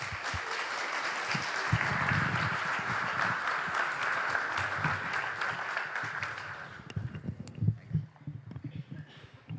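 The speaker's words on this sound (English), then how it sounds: "Please welcome her with a big applause." An audience at a conference opening session applauds to welcome an ambassador to the stage, a broad, sustained wave of clapping for about seven seconds that thins out into scattered claps and murmuring voices.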